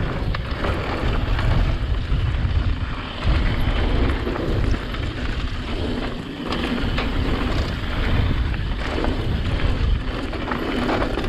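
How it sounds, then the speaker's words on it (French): Strong wind roars and buffets the microphone continuously during a mountain bike ride, a dense low rumble with gusty surges and no talking. "Il y a un peu de vent."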